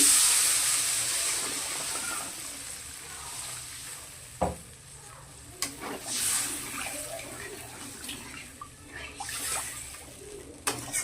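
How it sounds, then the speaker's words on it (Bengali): Water is added to a pan of fried spice paste for a Bengali katla fish curry, giving a soft sizzle and bubbling with a few scraping stirs and clinks close by, fairly quiet overall. "মশলা কষানো হয়ে গেছে, এখন আমি জল দিয়ে দিচ্ছি।"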